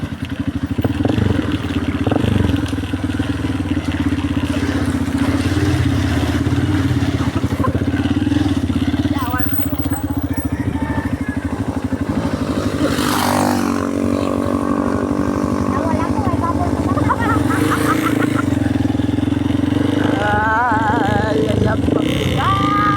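A motorcycle engine runs steadily with a constant low drone throughout, loud and close, with clattering and people talking and singing over it in places.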